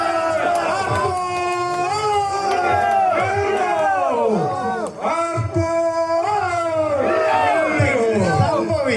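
A crowd yells and cheers at a banana tree climbing contest, with many voices rising and falling in loud, drawn-out shouts and whoops close by.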